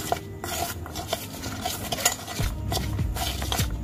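Spoon stirring a sweetcorn mixture in a bowl, repeated scraping and clinking strokes at a steady pace, close and continuous, with a faint background sizzle.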